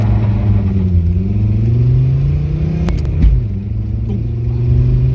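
A Mercedes 190D 2.5 diesel with a K&N air filter accelerates hard on a road, its engine droning loud and close, rising in pitch and then dropping through a gear change before climbing again.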